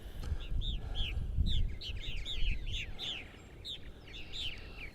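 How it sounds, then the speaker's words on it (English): Purple martins, North America's largest swallow, call in repeated chirping bursts while flying and feeding as a group on eastern Long Island, New York. The calls are moderately close and overlap steadily above a low rumble of wind noise. "Purple martins, North America's largest swallow."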